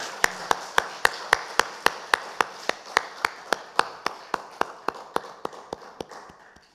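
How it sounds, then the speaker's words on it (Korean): A church congregation at a Sunday worship service claps in unison, about two dozen crisp, evenly spaced claps in a brisk steady rhythm that fade slightly toward the end. "하나님께 영광의 박수 올려드립니다."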